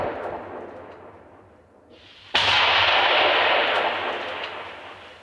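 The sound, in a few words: mortar and RPG strikes, artillery fire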